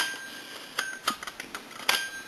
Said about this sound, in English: the metal rides on the bells, it's supposed to quieten them down